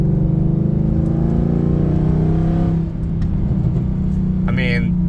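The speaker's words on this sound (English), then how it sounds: "Man, I still love this exhaust" A Mercedes E63 AMG's exhaust drones loud and close with a deep, steady engine note, swelling slightly as it revs.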